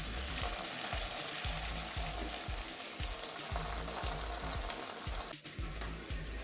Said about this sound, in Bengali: আরেকটা ওইভাবে ভেজে দেখাচ্ছি